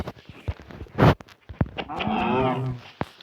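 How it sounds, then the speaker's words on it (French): A cow lows in a survival video game, a drawn-out moo in the middle of scattered short clicks and thuds from the game, heard alone at moderate volume. "Une vache."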